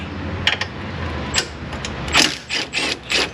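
A hand ratchet backs out 10 mm bolts in an auto repair shop, its quick bursts of clicking pawl noise repeating close by over low workshop rumble.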